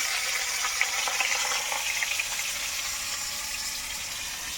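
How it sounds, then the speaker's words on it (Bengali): Potatoes frying in a pan with salt and turmeric, a steady bright sizzle with crackle that holds at an even, close level throughout with no talking. "এখন আলু ভেজে নেব।"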